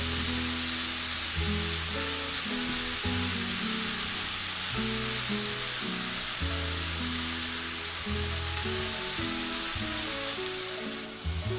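Ground hamburger meat sizzles steadily in a hot pan as it is broken up into small pieces for a homemade beef pizza sauce, a continuous close frying hiss with background music underneath.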